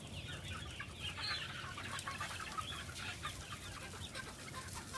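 Free-range chickens at Polyface Farm feeding outdoors, a faint, steady chorus of soft clucks and chirps over a continuous background hiss, no talking.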